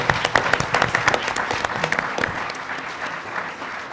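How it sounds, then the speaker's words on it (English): An audience at a carbon capture conference panel in a ballroom breaks into applause, a dense burst of clapping that gradually thins and fades over a few seconds. "let's have a round of applause for the panel here"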